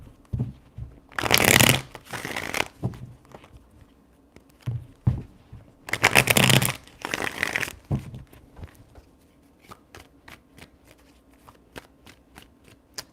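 Tarot cards shuffled three times: two long riffling bursts and a shorter one, close and crisp, with light card taps and small handling clicks in between and no talking.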